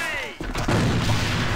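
A grenade blows up in the online shooter Alliance of Valiant Arms during a competitive esports match, a sudden thumping blast with lingering rumble among gunfire, under excited, continuous commentary.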